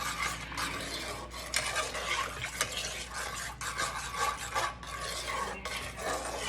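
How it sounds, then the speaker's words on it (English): Soy sauce and chicken sauce are stirred in a bowl for sweet chilli chicken, giving a close, continuous scraping and rubbing of utensil against the bowl with small clinks, with no voices. "we're gonna mix all that up"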